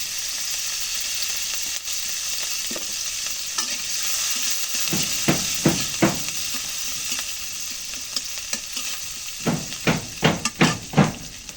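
Ingredients fry in oil in a pan with a constant loud sizzle, while a spatula scrapes and knocks in clustered strokes, no talk.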